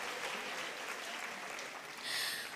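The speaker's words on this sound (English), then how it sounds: "a round of applause, please?" A graduation audience at the University of Namibia in Windhoek applauds its postgraduates in 2019: a steady wash of many hands clapping, fairly distant and soft, swelling slightly near the end, with no voices.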